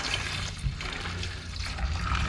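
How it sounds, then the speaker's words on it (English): AP acid solution is poured into a container during gold recovery from flat packs, a soft continuous trickle and gurgle of liquid, fairly faint, with no talking. "I'm going to pour some more AP in there."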